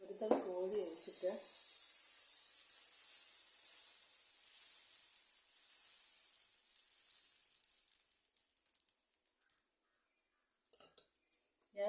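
A ladle of rice batter poured onto a hot pan, a loud bright hiss that swells and slowly fades over several seconds, briefly preceded by a voice speaking.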